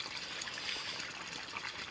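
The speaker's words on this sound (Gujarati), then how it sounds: "અચ્છા, આપણી મોટરનું પાણી" Water running from a farm pump motor's line into a field, a steady trickling and splashing wash that stays even throughout, soft and constant.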